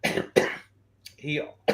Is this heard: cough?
yes